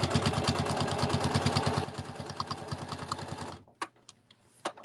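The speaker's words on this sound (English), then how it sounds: "I'm sewing through 4 flannels and 2 pieces of batting." A sewing machine stitches through four layers of flannel and two of batting with a fast, even mechanical chatter that slows partway through, then stops, leaving a few faint clicks.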